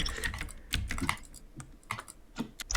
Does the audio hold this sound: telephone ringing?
no